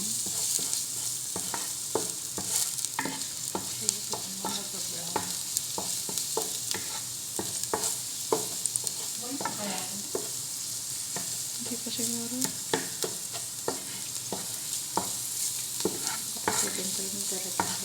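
Garlic sautéing in a pan gives a continuous quiet sizzle, broken by frequent scraping stirs of a utensil and occasional soft clatters, with faint voices in the background.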